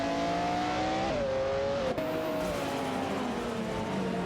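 Video game race engines from a Nissan Skyline R33 LM Nismo and a Lamborghini Diablo VT battling for position, a loud continuous engine drone with rising and falling pitch and a shift partway through, with no talk over it.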